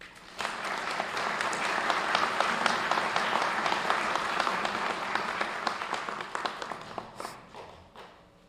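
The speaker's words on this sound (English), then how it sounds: "So give them a round of applause." Audience applause at a Democratic mayoral candidates forum, a dense sustained wash of many hands clapping that swells quickly, holds steady for several seconds, and thins out toward the end.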